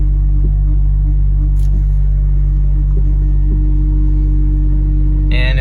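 Honda or Acura power steering pump whining as the wheel is turned with the engine idling, a steady low drone and hum holding throughout with a faint brief rattle near the end.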